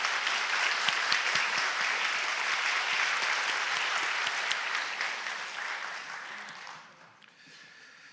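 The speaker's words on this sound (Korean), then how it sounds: "한번 환영의 박수 한번 하십시다." A church congregation claps together in sustained, dense applause of welcome during a Sunday worship service, steady and full before thinning and fading out near the end.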